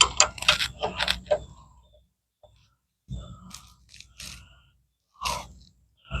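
Spindle nut being spun and tightened onto the wheel bearings of a 1957 Chevy, close metallic scrapes and clicks in short bursts separated by quiet gaps.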